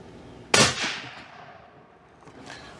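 A Savage 110 rifle chambered in .300 Win Mag fires one sharp, loud report with a ringing tail, followed later by a fainter echo or distant impact.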